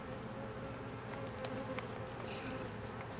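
Honey bees swarming around an open hive during an inspection, a dense continuous buzz close by with individual bees droning past, no talk over it.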